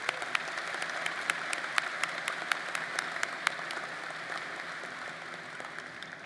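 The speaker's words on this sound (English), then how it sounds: "Let's give them a round of applause" A commencement audience at a spring university ceremony breaks into applause, dense sustained clapping from a large crowd with a few sharper individual claps standing out, steady then easing slightly.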